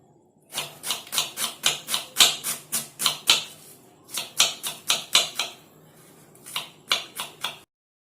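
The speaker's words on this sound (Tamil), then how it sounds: "வெங்காயம், வாழைப்பூ, கொத்தமல்லி பொடி பொடியாக கட் பண்ணி எடுத்துக்கலாம்." A knife chops onion and banana flower finely on a board in quick, crisp, close strikes, in three rhythmic runs separated by short pauses.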